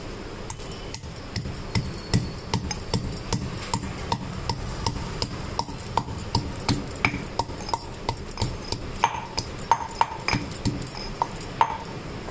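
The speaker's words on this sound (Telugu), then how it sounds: "నేను రోట్లోనే దంచుతున్నా, కొంచెమే కదా." Coconut pieces pounded by hand in a stone rolu mortar, a steady run of sharp, close thuds repeating at a quick, slightly uneven pace through the whole stretch, with no talk over it.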